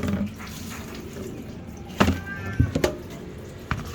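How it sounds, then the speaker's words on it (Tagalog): Water drips and drains steadily from rinsed meat set aside in a home kitchen, with a few louder knocks and splashes over the continuous trickle. "Lipat natin dito guys para makatulo ang tubig guys."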